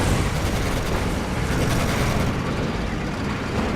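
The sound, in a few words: tank engine running in the video game Codename: Panzer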